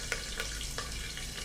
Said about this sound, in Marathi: नंतर मी घालते याच्यामध्ये थोडासा छान फ्रेश असा कढीपत्ता.